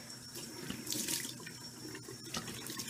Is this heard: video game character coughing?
no